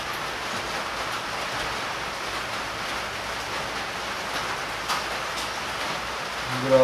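Rain comes down on a muggy day, a softer steady hiss of drops with a small knock near the middle and a brief clunk at the very end, no voices.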